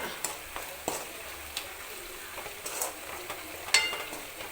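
Green chilies and spices fry in hot oil for a mango curry, giving a soft, steady sizzle with a few light stirring clicks close by.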